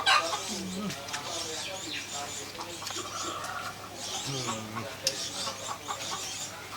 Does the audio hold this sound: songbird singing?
yes